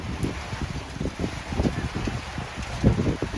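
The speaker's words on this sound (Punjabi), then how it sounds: "ਫੁੱਲ ਮੀਂਹ ਆ ਪੂਰਾ ਜ਼ਬਰਦਸਤ ਮੀਂਹ" Heavy rain pours in the Himachal mountains, a steady broadband wash with gusty buffeting that rises and falls, close to the microphone and with no voices.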